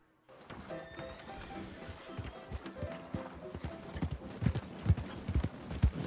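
A horse in Red Dead Redemption 2 trots along with clear, rhythmic hoof clip-clops that grow louder and more pronounced, accompanied by a whinny and faint tack and game-world sounds.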